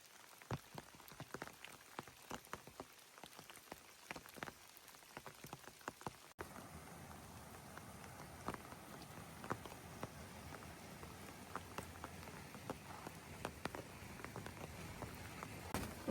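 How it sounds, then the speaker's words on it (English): Heavy rain falling in Sage's Ravine below Bear Mountain on the Appalachian Trail in Massachusetts, dense steady patter with scattered louder drips close by, no voices. "It's raining a lot."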